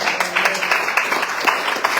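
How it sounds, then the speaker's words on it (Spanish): A church congregation claps hands together in a quick, steady rhythm, many palms striking at once in sharp repeated bursts, fairly loud and close, with no one speaking over it. "Démosle palmas, hermano."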